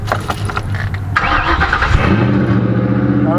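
A Ford Crown Victoria with its power steering removed cranks briefly, catches, and settles into a steady close idle.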